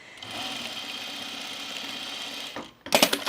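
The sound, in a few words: sewing machine top stitching blouse shoulder seams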